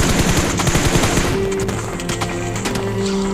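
Rapid automatic gunfire from the mobile battle royale game PUBG Mobile, with dense, loud bursts that rattle steadily across the whole stretch and thin slightly toward the end.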